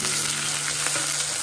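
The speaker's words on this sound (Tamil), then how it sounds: "இதுக்குள்ள நாங்கள் இந்த வெங்காயத்தை போடுவோம். வெங்காயத்தை போட்டுட்டு கருவேப்பிலையும் நம்ம போட்டால்" Sliced onions and curry leaves dropped into hot sesame oil for a dried fish and drumstick curry, a brief, loud, steady sizzle heard up close with no talking.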